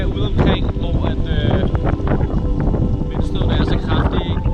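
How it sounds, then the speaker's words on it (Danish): Strong wind gusts buffet a sailboat mid-Atlantic during a night of squalls, a loud continuous roar with rushing bursts throughout, and voices faintly present beneath the wind. "vindstøden er så kraftig, så regn føles som projektiler mod kæmpe"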